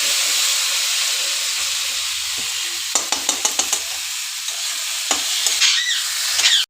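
Spices and chopped coriander leaves sautéing in a pan, a continuous close sizzle broken by a quick run of rhythmic stirring scrapes and a few later clinks, with no talking.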